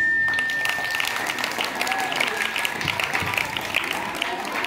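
A school audience claps for the headmaster at a function, a steady patter of many hands that carries on throughout, with a faint tone and some background murmur underneath.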